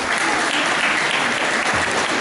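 A church congregation applauds in a steady, dense burst of clapping that fills the room, loud and continuous without pause.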